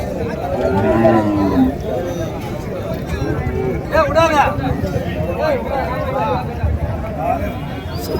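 Native cows low at a busy cattle market, drawn-out moos rising and falling over a dense hubbub of crowd chatter, with people talking nearby throughout.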